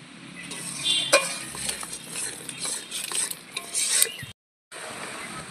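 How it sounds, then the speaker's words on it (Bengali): Spice paste of ground coriander and chilli powder being stirred and sautéed in a pan for a cauliflower dish, a quiet sizzle under repeated close scraping and clinking of a spoon against metal, ending in a brief silence. "এবার ভালো করে কষিয়ে নেব।"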